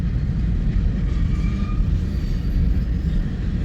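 Freight train of cryogenic tank cars rolling past in Fremont, Nebraska, a steady loud low rumble of wheels and wagons close by, with no voices.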